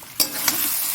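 Spices frying and being stirred in a hot pan for aloo dum, giving a loud, steady sizzle with a couple of scraping stir strokes close by.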